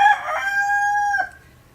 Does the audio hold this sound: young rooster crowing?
yes